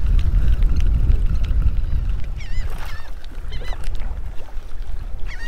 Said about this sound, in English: Now the birds are getting fired up again.